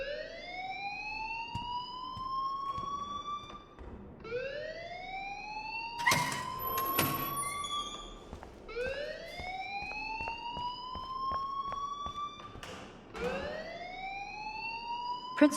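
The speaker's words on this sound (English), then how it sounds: "please turn off that alarm since that's your job" A school fire alarm in the Life is Strange video game rings loudly as a rising, wailing siren tone, repeating in long sweeps over about fifteen seconds with a few sharper bursts in the middle.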